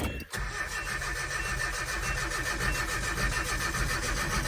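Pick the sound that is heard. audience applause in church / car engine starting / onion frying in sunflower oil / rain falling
car engine starting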